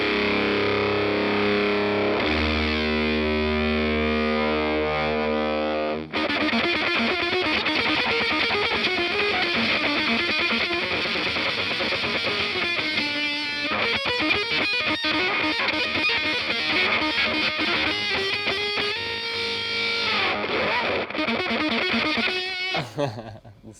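Electric guitar run through a pedalboard of effects, including a noise-cleaning pedal, heavily distorted and sustained, playing loud and continuously for most of the stretch after a brief cleaner opening, with a voice now and then.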